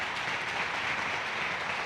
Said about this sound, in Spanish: Démosle ese aplauso a Él.